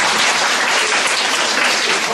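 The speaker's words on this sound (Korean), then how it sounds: "다시 한번 박수 부탁드립니다." An audience at a children's education lecture by a dentist breaks into sustained applause, dense clapping held at an even level from start to finish with no voices over it.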